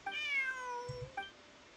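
A stray cat in Genshin Impact gives a single drawn-out tonal meow, clear and close, followed by a short chirpy second call, with faint low background underneath.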